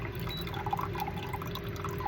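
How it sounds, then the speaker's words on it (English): Water is poured from a container into a drinking cup, a steady faint trickle with small drips over a low background hum, close by and without speech. "I'm going to pour the rest of this in here"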